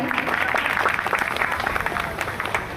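Loud applause from a crowd at a farewell ceremony, steady dense clapping filling the whole moment, with some voices mixed in.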